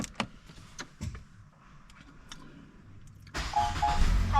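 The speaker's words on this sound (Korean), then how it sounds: "시동을 한번 켜보도록 하겠습니다." A used car with a panoramic sunroof is started from inside the cabin: faint clicks and small interior noises come first, then the engine cranks and catches into a steady, louder idle.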